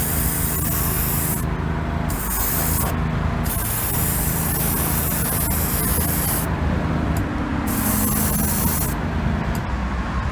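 An aerosol spray can hisses in several long bursts as a light coat of paint goes onto a 1974 Hot Wheels Flying Customs Heavy Chevy toy car, each loud spray separated by brief pauses.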